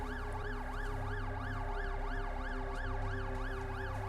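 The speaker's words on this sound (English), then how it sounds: "it's an ambulance." Ambulance siren in a game, a continuous wailing up-and-down cycle repeating steadily at moderate volume, heard alone with no talk.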